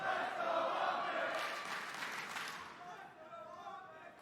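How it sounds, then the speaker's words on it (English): Esports arena crowd at a Call of Duty match between OpTic and London Royal Ravens, cheering and yelling in a steady roar that fades slightly over a few seconds, with faint talk underneath. "You hear like the crowd's like trying to get into it"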